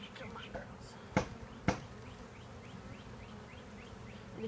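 Honeybees hum at an open hive on a farm, a low steady buzz with two sharp thumps partway through and faint chirpy tones overhead, quiet and close.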